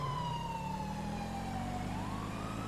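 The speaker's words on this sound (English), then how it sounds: "The siren's not behind you guys." A police siren in the video game GTA 5 wails in slow rising and falling sweeps, steady and moderately loud over a low vehicle engine drone, with no talking.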